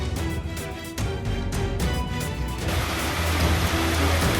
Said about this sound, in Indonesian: Hujan es ini baru pertama kali terjadi di Majalengka.